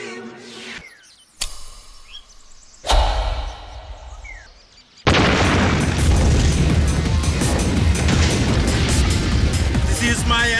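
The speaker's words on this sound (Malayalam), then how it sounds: "എന്തിനാ ആളുകൾ പടക്കം പൊട്ടിച്ചേ?" Firecrackers set off for the Vishu festival burst in a few sharp booms, then a dense stretch of loud crackling and popping follows.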